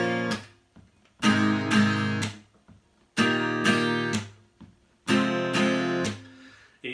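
Acoustic guitar strummed through the chords of a song, three bursts of strumming each ringing out and fading before the next, played alone and close.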